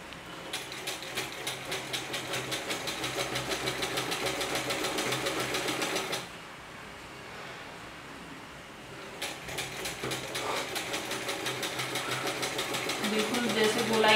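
A sewing machine stitches a dhoti salwar in steady, fast runs, pausing once for a few seconds before starting again, with a voice talking over the whirring.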